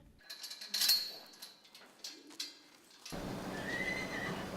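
Horses in an arena give a loud, close whinny near the start, followed by snorts and scattered hoof knocks, before steady background noise takes over.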